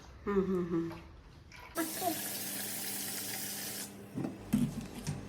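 Water gushes from a tap over soaked raw rice as it is washed, a steady splashing rush lasting about two seconds, with a voice heard just before and after.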